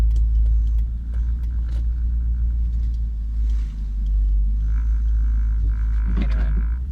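A Mercedes W203 C-class sport coupe fitted with a 3UZ-FE V8 and a new exhaust idles while parking, a deep steady low rumble with a few faint creaks and clicks on top.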